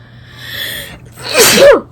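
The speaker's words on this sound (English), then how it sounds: "I really try not to sneeze on camera" A single loud sneeze, a quick breathy intake followed by a sharp burst, close to the listener.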